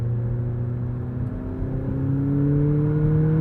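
McLaren P1 hybrid hypercar heard from inside as it accelerates, a smooth rising engine drone and whir climbing steadily in pitch, moderately loud with no talk.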